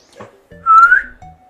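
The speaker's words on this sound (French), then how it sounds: "J'aurais pas dû siffler, ça vous a fait trop mal aux oreilles." A person whistles a single bright rising note lasting just under half a second, loud and close, with short bits of other sound before and after it.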